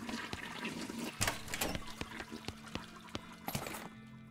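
A toilet flushes in the video game West of Loathing, a gurgling rush of pouring water with scattered clicks, quiet and alone.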